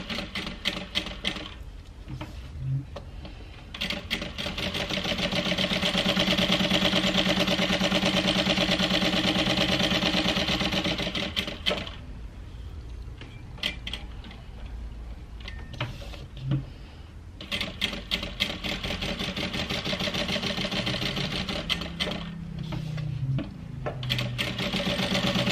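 A sewing machine top stitches along the lines of a handbag, running steadily in long close bursts broken by short stops and handling sounds.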